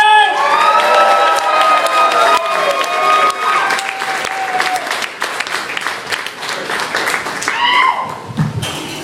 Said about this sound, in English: Welcome to the stage with a huge round of applause, Bubbs, everybody!